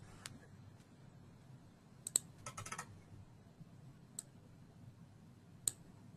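Keys tapped on a computer keyboard during SolidWorks Electrical wire harness design work, a few sparse soft clicks and one short quick run of typing, faint over a low steady room hum.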